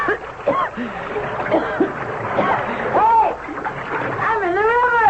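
A man thrown over the side of a boat into the Nile splashes into the river amid struggling voices, with water sloshing and splattering around shouted talk throughout.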